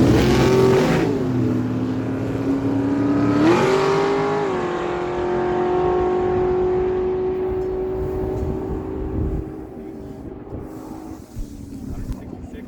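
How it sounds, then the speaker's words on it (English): A big block dragster at a drag strip gives a loud, sustained engine roar that rises in pitch, surges again around the midpoint, then slowly fades as it pulls away, with wind noise on the microphone throughout. "Big block power in his dragster"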